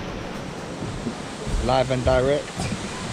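Algar Falls waterfall in Spain, a steady broadband rush of falling water with wind buffeting the microphone, with a voice speaking briefly over it in the middle.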